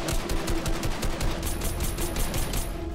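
Rapid automatic gunfire in Fortnite, a dense string of evenly spaced shots rattling continuously and loudly for the whole moment.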